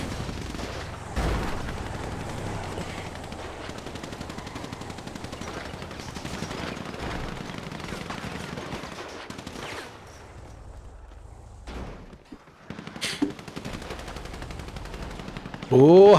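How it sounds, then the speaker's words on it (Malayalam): Rapid automatic gunfire in a video game match, dense bursts of shots running nearly continuously with a few brief pauses, loud and close. "ഹംസ കഞ്ഞിക്കുഴിക്ക് നല്ലൊരു വെടി കിട്ടി."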